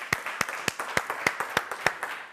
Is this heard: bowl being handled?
no